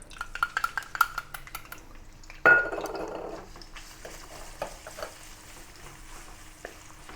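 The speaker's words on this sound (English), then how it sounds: "Keep sauteing the ginger for a while until the ginger turns color slightly and becomes slightly crispy." Ginger sautéing in hot sesame oil in a wok, a burst of sizzling as it hits the oil, then a steady frying hiss with scattered clinks and scrapes of a utensil against the metal.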